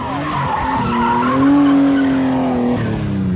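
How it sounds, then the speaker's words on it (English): A drift car comes off the gas mid-transition, its engine note falling and wavering while tires squeal and skid, loud and close with no talking. "I want you to listen to him getting off the gas."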